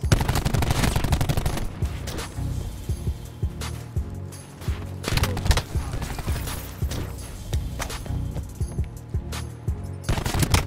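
Rapid automatic gunfire and single shots crackle through a shooter video game match, dense overlapping bursts with short lulls, loud and close throughout.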